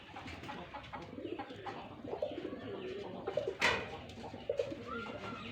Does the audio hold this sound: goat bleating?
no